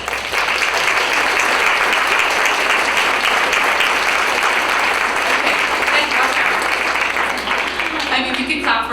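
An audience fills the room with sustained, dense clapping after a keynote address, a loud and even roar of hands that holds steady and begins to thin out toward the end.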